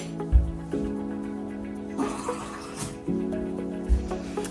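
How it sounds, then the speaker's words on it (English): Water pours into garlic soy chicken sauce in a crockpot, several short pours with pauses between, close and moderately loud. "I think I can add a little bit more water."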